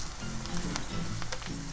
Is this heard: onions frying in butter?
yes